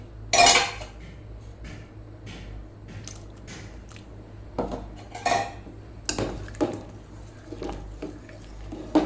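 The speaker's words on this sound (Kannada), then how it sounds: "ಅಕ್ಕಿ ಹಿಟ್ಟನ್ನು ಹಾಕಿದ ಕೂಡಲೇ ಮಿಕ್ಸ್ ಮಾಡಬೇಕಾಗ್ತದೆ ಇಲ್ಲದ್ರೆ ಅಲ್ಲಿ ಗಟ್ಟಿ ಆಗ್ತದೆ" Rice flour is stirred into boiling coconut milk and jaggery in a pot, giving scattered clinks and scrapes of a spoon against metal with soft wet sloshing between, quiet and irregular with no talking.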